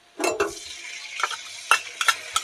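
Ginger, cumin and chili paste goes into a pan of frying potatoes, giving soft sizzling under a series of sharp scraping and stirring clacks from a utensil, close by.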